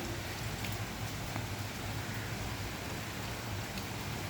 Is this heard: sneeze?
no